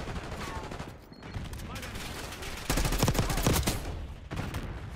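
Marksman rifle gunfire in Black Ops 6, bursts of sharp repeated shots, heaviest and loudest in a rapid cluster midway, with game noise between volleys.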